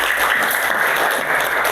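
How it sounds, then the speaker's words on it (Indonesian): Children in a primary school classroom clap together in a steady, dense burst of applause that fills the room, loud and close, with no talking over it. "Tepuk tangan juga anak-anak."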